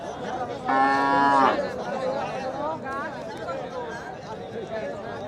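A cow lets out one loud, close moo at a large cattle market at Satpakia ferry ghat, where cows and calves are sold, while a crowd chatters and people talk throughout.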